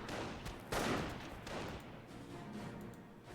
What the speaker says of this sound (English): 2 sniper shots there.